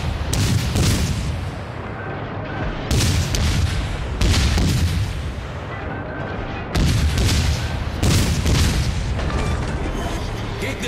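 Naval gun salvos from a US destroyer in World of Warships, loud booming volleys arriving in four heavy clusters with rumbling decay between them, no talk over the firing.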